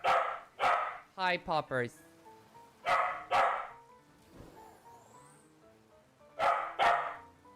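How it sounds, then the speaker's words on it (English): A dog barks close and loud in repeated paired bursts spread across the moment, with a person speaking briefly between the barks. "Yeah, you're just barking for no reason right now."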